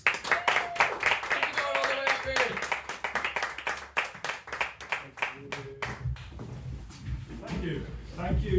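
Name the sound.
audience applause for a comedian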